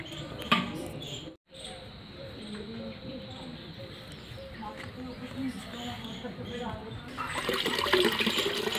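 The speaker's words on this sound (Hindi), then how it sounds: "फर्टिलाइजर को मैं इस तरह से बने हुए दूसरी बाल्टी में छान रही है" Liquid onion peel fertilizer pouring and splashing as it is strained into a second bucket, a steady close rush of water that swells louder toward the end, with a brief dropout early on.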